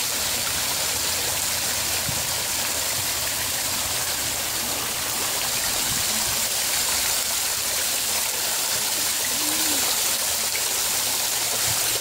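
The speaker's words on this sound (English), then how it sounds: "The commemorative fountain." Water from a commemorative fountain in northwest Arkansas pours and splashes in a steady, continuous rush, close and fairly loud, with no talking over it.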